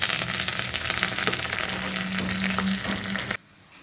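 Curry leaves dropped into hot oil for a South Indian tempering with mustard seeds, garlic and urad dal, giving a loud continuous crackling sizzle with occasional pops that cuts off abruptly near the end.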